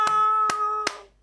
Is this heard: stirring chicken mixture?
no